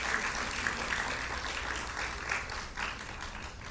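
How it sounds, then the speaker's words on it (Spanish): Church congregation applause, a continuous medium-distance patter of many hands clapping, fairly soft and even with slight swells, and no talking over it. "Démosle un aplauso."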